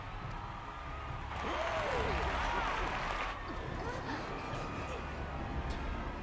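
A crowd cheers and claps in Final Fantasy XIV: Dawntrail, a broad swell of applause and murmur that rises then eases, with a voice speaking over it.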